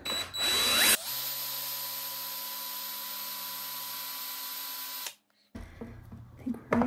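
A power drill bit bores into a Victorinox pocket knife, a steady high whine running for about four seconds before stopping abruptly, with handling noise before and after, close up.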